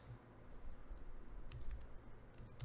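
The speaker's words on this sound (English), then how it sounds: "I got to type it right first." Quick typing on a computer keyboard at a day trader's desk, a light run of close, soft key clicks at low level with no talking.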